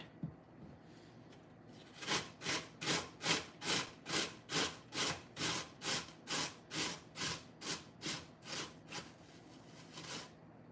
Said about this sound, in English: As long as you don't grate it into the handle of your cutting board.